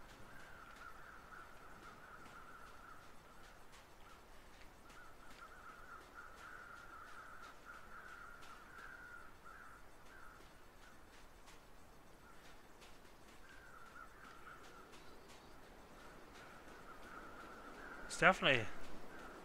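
Crows caw in the survival video game The Long Dark, with faint, distant calls recurring through the background and a louder, closer burst of cawing near the end, while someone talks over the game.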